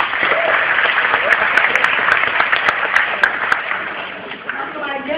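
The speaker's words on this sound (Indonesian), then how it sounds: "Terima kasih, tepuk tangan dong." Seminar audience applauding steadily for about five seconds, a dense roomful of clapping that fades slightly near the end, with faint voices underneath.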